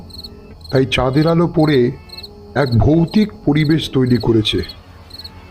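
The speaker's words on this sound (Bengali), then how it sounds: "ঝিঝি পোকার ডাক" Crickets chirp in steady, rapid high-pitched pulses throughout, continuing beneath a voice speaking calmly in the foreground.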